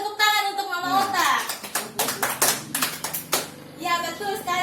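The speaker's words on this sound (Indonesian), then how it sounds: "Berikan tepuk tangan untuk Mama Ota." Audience clapping for Mama Ota at a hypertension health-education session, a burst of hand claps breaking out between stretches of nearby speech, then talk resuming.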